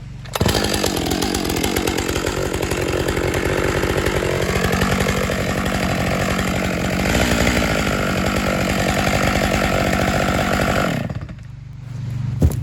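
A chainsaw cuts steadily through a big log being downsized for a sawmill, a loud, close, sustained high-revving roar lasting about eleven seconds before it drops back to a lower idle.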